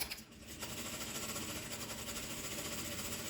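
A sewing machine runs a wide-stitch seam along the edge of a small ruffled zippered pouch, a steady continuous motor whir with a fast mechanical needle rhythm, fairly close and alone.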